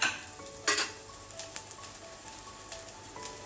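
Chopped pink cabbage and soaked moong dal sautéed in a pan, a steady close sizzle broken by sharp scraping stirs of a spatula against the metal.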